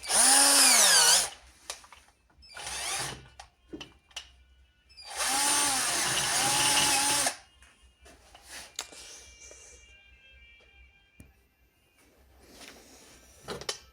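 A power tool whines in loud bursts as it saws into metal while repairing the side door hinge of a Fiat Scudo, with sustained high-pitched grinding runs and quieter pauses and clinks between them.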